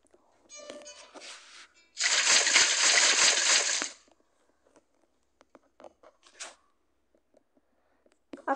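Water placed in Minecraft rushes in as a loud, two-second splashing flow, followed by quieter scattered clicks and small splashes against near silence.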